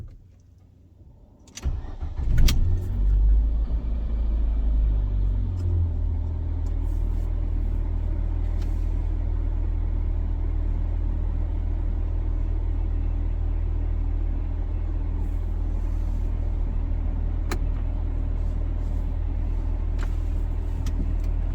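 A car starts up with a brief crank and catch, then its engine settles into a steady low rumble as it idles and pulls away for a drive through Dubai, with a few faint clicks and knocks over the drone.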